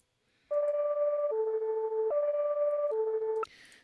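An FL Studio one-shot melody slowed with a halftime effect plays as a clean synthetic tone alternating between two pitches across four even steps. It closes with a brief bright blip, with no voices.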